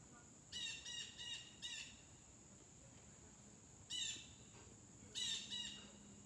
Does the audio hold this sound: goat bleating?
no